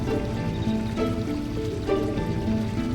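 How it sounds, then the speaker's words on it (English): Heavy rain falling in the Final Fantasy IX video game, a steady dense wash of noise that stays loud throughout, with tonal game music running underneath. "As it starts raining harder."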